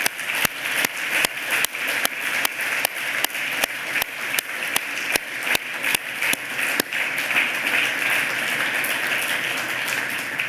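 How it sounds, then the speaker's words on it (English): Audience applause fills a conference closing ceremony, a dense, steady wash of clapping with sharp, regularly spaced louder claps cutting through for about ten seconds, no voices on top. "So let's give a huge applause to all the people who supported us during this week."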